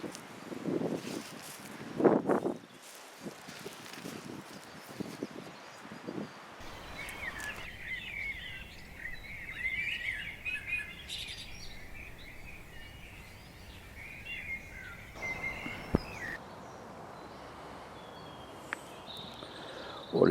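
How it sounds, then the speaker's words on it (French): Faint garden birdsong, with scattered chirps and calls over steady wind noise and light rustling, heard at a distance and fairly quiet throughout. "Oh, les oiseaux chantent."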